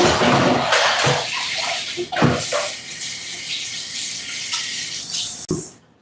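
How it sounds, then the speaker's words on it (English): Running water from a tap splashes steadily into a sink while hands are washed, a close, continuous broadband rush with a few brief clatters near the start, cutting off abruptly at the end. "So I'm going to put this down, wash my hands."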